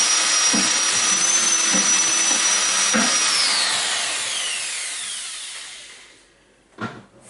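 Power drill whirring steadily while mixing honey and water for mead, with a few knocks against the container, then winding down and stopping, followed by a brief clunk.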